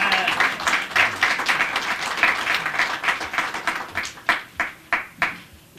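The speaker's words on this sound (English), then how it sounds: "Give yourself a loving, wonderful round of applause." Applause at an emancipation anniversary gathering, loud close clapping from a crowd that thins out into a few distinct, spaced individual claps near the end.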